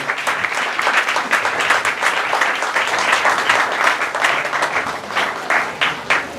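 A church congregation applauds at a service, dense sustained clapping from many hands throughout, with a few faint voices mixed in.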